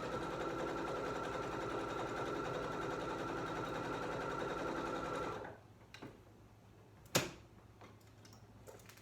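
A sewing machine stitches elastic in a steady, rapid run of needle strokes for about five seconds, then stops, leaving a quiet room broken by a single sharp click.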